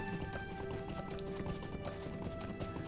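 Hobby horse mount in Lord of the Rings Online clip-clopping in a steady, brisk hoofbeat rhythm, close and continuous over a busy game background with music-like tones.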